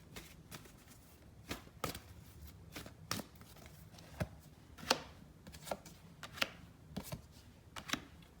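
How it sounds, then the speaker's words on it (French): Tarot cards are shuffled by hand at close range, a series of crisp riffling snaps and soft slaps at irregular intervals against a quiet room. "je tire 3 cartes"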